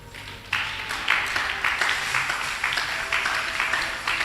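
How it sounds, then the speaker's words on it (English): A church congregation at a Gethsemane 2023 service claps hands in a steady, fairly loud burst of applause that continues throughout. "Did you clap your hand?"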